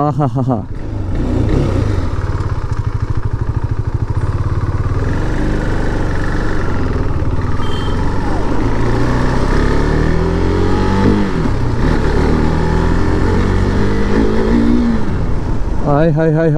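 A KTM 390 motorcycle with a BS4 engine idles with a steady, close rumble, then revs with rising pitch toward the end. A voice is faintly present at times.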